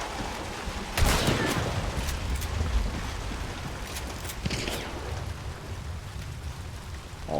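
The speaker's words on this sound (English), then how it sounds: "Was that who was shooting at me that entire time?" Gunfire in the western shooter Hunt: Showdown: a sharp shot cracks out near the start, followed by a few scattered distant reports over a steady hiss of rain-like ambience.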